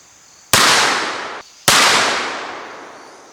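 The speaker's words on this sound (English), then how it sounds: "Hickok draws, aims, fires." Two sharp, loud gunshot cracks from a handgun in an Old West gunfight reenactment, about a second apart, each followed by a long fading echo.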